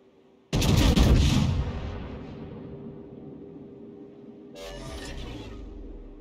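Heavy naval guns from the battleship North Carolina fire in the World of Warships game: one loud booming blast that rolls off into a long rumble, then a second, softer report a few seconds later.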